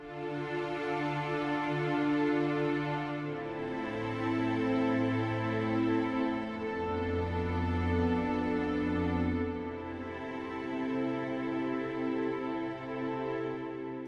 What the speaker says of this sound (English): And then for the pads, I used Omsphere and what's this one? Yeah, Espressivo.